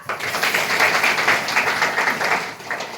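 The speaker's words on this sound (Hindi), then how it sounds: "तो ताली बजाओ" A group of people at an Anganwadi training session clap their hands together, a dense run of quick, rhythmic claps lasting a few seconds, close and fairly loud with no talk over it.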